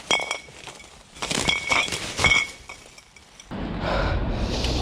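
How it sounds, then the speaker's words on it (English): Glass bottles gathered during a litter cleanup clink and knock together in several bright bursts, close by, with rustling and a steady outdoor hum taking over near the end. "You can hear all the glass clicking behind me."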